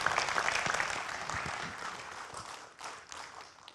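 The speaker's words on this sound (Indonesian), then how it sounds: "Kita kasih aplaus." Audience applause after a speech at a public forum on religion and humanity, a dense wash of clapping that holds steady, thins briefly, then swells again near the end.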